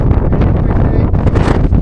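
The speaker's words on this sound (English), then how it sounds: "Very windy." Strong, gusty wind on the mountain top of Cadair Idris in Wales buffets the microphone with a loud, continuous low rumble and roar, rising and falling in surges.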